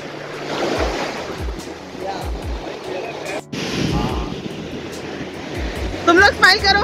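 A swelling river of clear water rushes steadily close by, a constant broad roar like surf, with people talking over it and brief voices near the end.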